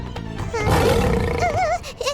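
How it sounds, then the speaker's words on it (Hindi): A lion roars in an animated devotional cartoon, a loud, close, drawn-out growling roar with a wavering, rising-and-falling tone that fades out near the end. "शेर की दहाड़"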